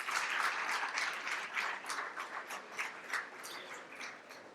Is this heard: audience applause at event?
yes